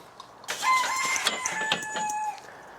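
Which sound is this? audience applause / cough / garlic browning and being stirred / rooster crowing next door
rooster crowing next door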